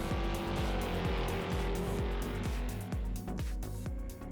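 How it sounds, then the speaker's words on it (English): A Ferrari 488 GT3 race car in Project Cars 2 screams through rapid upshifts, its engine note climbing and dropping in a quick repeating pattern, loud and steady with no talking. "It's the Ferrari 488 GT3, probably the most raced car in all of Project Cars 2."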